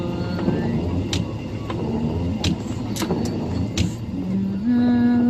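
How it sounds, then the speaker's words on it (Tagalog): Vehicle engines rumble and idle in heavy road traffic between Cavite and Quezon, with scattered clicks and knocks over a steady low drone and a brief rising engine tone near the end. "Sobrang traffic."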